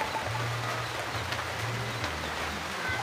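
Rain falling outdoors makes a steady, even hiss throughout, with a low droning tone underneath.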